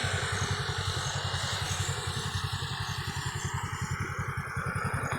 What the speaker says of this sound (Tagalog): Yan ang aking motor, Marvel 125.